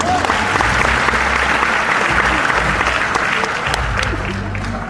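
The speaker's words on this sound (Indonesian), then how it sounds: "Tepukan dong buat Pandi." A large audience at a motivational seminar in Solo bursts into loud, sustained applause, a dense roar of many hands clapping close and continuous for several seconds, with faint voices mixed in.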